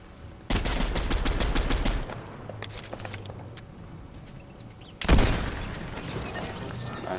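Gunshots in Fortnite: a rapid burst of automatic fire, quieter scattered shots and movement, then another loud volley, all close and sharp.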